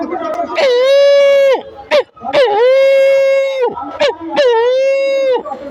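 A man imitates a dog with three long, loud howling barks, each drawn out over more than a second with short breaks between them, delivered up close and clearly.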